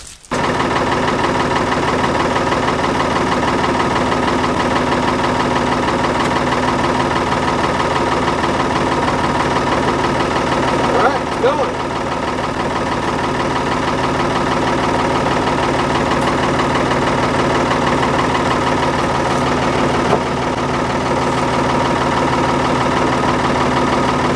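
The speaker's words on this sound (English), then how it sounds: "So I've got the hydraulics from the backhoe hooked up to the cylinder. I'm going to start it up and I'm going to extend the cylinder" Backhoe engine running steadily and loudly while its hydraulics extend a cylinder, a constant droning rumble with a slight dip in load midway, no voices over it.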